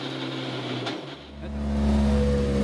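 Citroën DS3 WRC rally car easing off at the end of a circuit lap, a loud close engine note dropping briefly and then settling into a steady, rising drone, heard alone.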